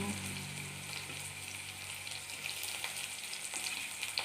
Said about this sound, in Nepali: अब म दाल झाल्छु।